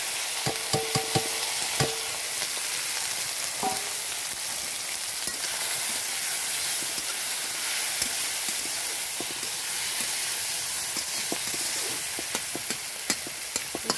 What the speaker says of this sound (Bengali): এগুলোকে পটল ভাজা করব, দেখাচ্ছি। তেল গরম হয়ে গেছে, এবার কড়াইতে ঢেলে দিতে এইভাবে।